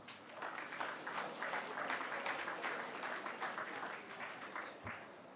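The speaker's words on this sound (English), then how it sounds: "May we have a round of applause" A school audience gives a round of applause at a ceremony, clapping in a somewhat uneven, fluttering rhythm that is fairly quiet and distant, with no talking over it.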